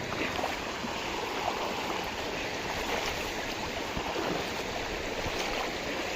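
Shallow river water flowing steadily around someone wading across on foot during the rainy season, a constant close rushing babble with no pauses and no talk.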